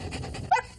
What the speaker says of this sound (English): that's a happy dog